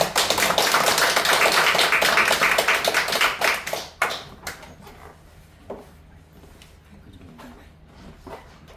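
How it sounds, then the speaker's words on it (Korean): Audience clapping at a church meeting, dense and loud at first, then thinning into scattered individual claps that fade out over the last few seconds. "우리 송영석 공동위원장님께 우리 박수 한번 부탁드립니다"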